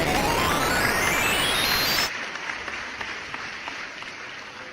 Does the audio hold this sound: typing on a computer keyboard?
no